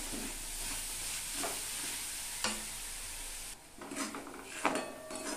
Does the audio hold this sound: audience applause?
no